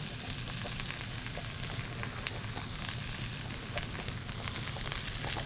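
Chicken sizzles steadily in a hot pan, a dense crackling fry with scattered pops at close range, continuous and unbroken with no voices.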